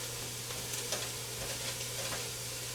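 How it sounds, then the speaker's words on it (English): Sausage, onions and peppers sauteing in a little olive oil make a faint, steady sizzle with soft stirring scrapes and a low background hum, no voices. "help finish sauteing these onions and peppers and things"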